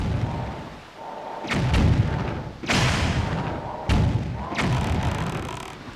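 Cannon fire from a boat in The Legend of Zelda: The Wind Waker HD, three or four heavy booming thuds spaced a second or so apart, each followed by a rumbling tail.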